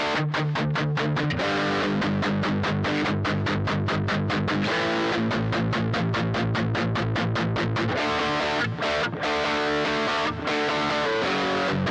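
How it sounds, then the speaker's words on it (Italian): Electric guitar with a heavy distortion effect playing a song, loud, steady rhythmic chugging chords with sharp repeated strums, heard alone without talk. "poi torna la distorsione"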